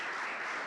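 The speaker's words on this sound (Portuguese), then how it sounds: "Você pode aplaudir o Senhor Jesus" A church congregation applauds during a worship service, a steady dense wash of many hands clapping at once, fairly loud and even throughout with no voices standing out.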